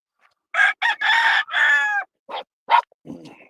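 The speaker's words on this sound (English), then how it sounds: "Got a hen out in the woods, laying an egg." A hen in the woods, laying an egg, gives a close, loud run of squawking clucks in uneven bursts, with a few shorter calls trailing off at the end.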